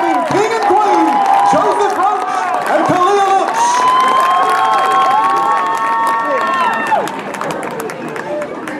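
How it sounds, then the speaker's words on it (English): A high school homecoming crowd cheers and claps loudly, with shouts and whoops rising over dense applause before easing slightly toward the end. "Let's have a round of applause for our"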